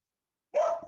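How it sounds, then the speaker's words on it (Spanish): A dog barks close by in a single short burst in an otherwise quiet room, loud and sudden, with no talking. "¡Ay, malditos perros!"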